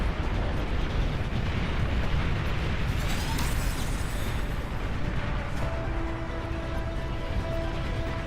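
A commander unit blows up in the real-time strategy game Beyond All Reason, a loud rumbling explosion with a sharp burst near the middle, trailing into a sustained roar and low tonal hum amid ongoing battle noise.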